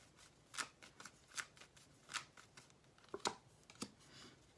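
Tarot cards are shuffled and drawn from the deck: a quiet run of crisp riffling snaps and soft slides, irregular bursts close to the mic with no talk.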